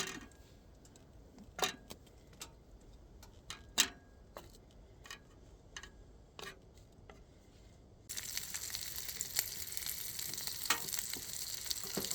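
Smoked pork belly frying in a pan inside a budget hot tent, with a few sharp pops and crackles at first, then a steady loud sizzle that swells partway through.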